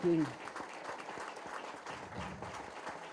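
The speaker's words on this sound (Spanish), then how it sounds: "Yo les pido un fuerte y caluroso aplauso a Domingo" An audience at a book launch on South American democracy claps in a scattered, moderate burst, with a voice briefly audible at the start before the applause carries on at modest loudness.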